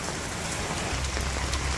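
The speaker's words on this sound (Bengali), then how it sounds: "ওই যে বৃষ্টি হইতেছে" Heavy rain pours down on a Bangladeshi village during a storm, a dense, steady hiss of drops drumming on surfaces, with no voices.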